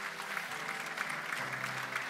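A church congregation applauds continuously during a sermon, a soft, even patter of many hands clapping at a moderate distance, with faint voices underneath.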